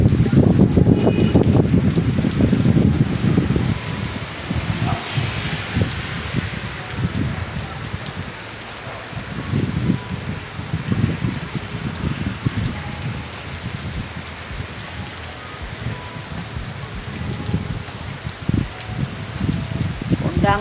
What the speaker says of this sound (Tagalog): bumagsak na naman ang napakalakas na ulan